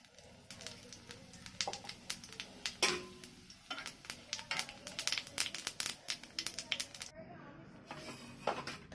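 Cumin seeds crackle and sizzle in hot oil on a heated griddle, a close, busy spattering of sharp pops and crinkles throughout, with a voice speaking intermittently over it.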